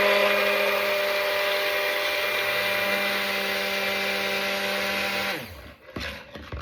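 Steady whirring of a stick blender or mixer blending kale, clay, colloidal oatmeal, coconut milk and coconut cream into soap oils heavy in olive oil, loud and continuous, then cutting out near the end.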